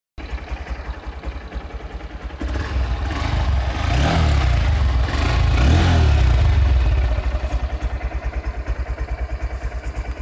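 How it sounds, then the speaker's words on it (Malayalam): A Honda X-Blade motorcycle's exhaust idles with a steady putter, then revs loudly and holds high for several seconds before dropping back to a rhythmic idle, heard up close with no talking. "ഇതാണ് വണ്ടിയുടെ എക്സോസ്റ്റ് നോട്ട്"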